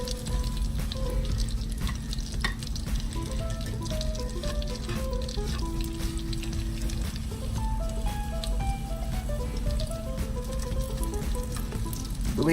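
Food sizzling and frying in a pan, a steady close crackle lasting throughout, with a low hum and a few faint tonal clinks.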